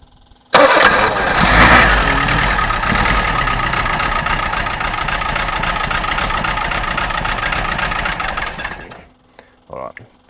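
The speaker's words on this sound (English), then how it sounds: "so I'd say it's running on 3 cylinders" An A-series four-cylinder engine cranks and catches, then idles roughly while misfiring on three cylinders, loud and close for about eight seconds before shutting off.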